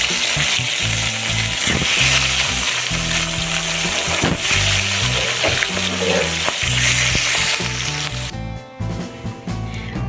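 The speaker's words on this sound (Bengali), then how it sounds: "দিয়ে বাকি মাছটা ভেজে নেব।" Pieces of fish frying in hot oil give a steady, loud sizzle with crackling spatter, while soft music plays underneath throughout.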